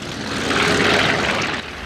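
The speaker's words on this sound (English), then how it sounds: "once those engines come to life with that familiar sound, it's time to go" Propeller engines of historic bomber aircraft run steadily at Grimes Field in Urbana, a broad droning roar that swells slightly and holds at a fairly loud, near level with no voices.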